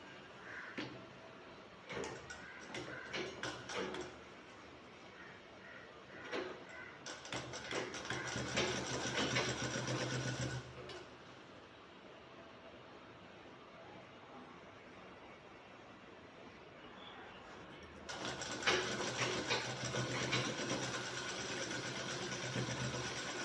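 A sewing machine stitches a full-sleeve shirt with open cutting in short runs of whirring and clattering, separated by quieter pauses. The sound is faint and close.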